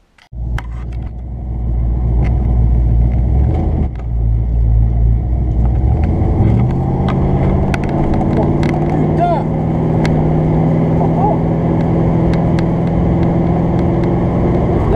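A 1969 Dodge Charger V8 after a carburetor change, cruising without acceleration: after a start-up thump, a loud, deep, steady engine rumble holds throughout from inside the car, with a voice talking over it.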